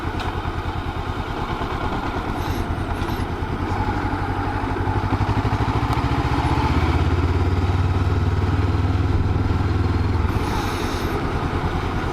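A motorcycle engine runs steadily nearby at a fuel station with a rhythmic low throb, swelling slightly midway, loud and continuous with no talking.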